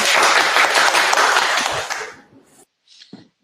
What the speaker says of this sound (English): a big round of applause to our Phil Rice team, technical team